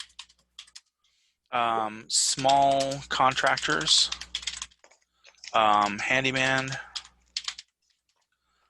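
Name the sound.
typing on a computer keyboard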